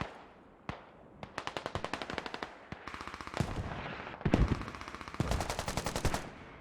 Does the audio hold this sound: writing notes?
no